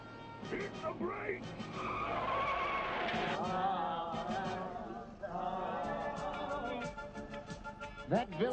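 Cartoon tire squeal of a vehicle braking hard, loud screeching skid sustained for several seconds, with voices shouting over it and another short squeal at the end.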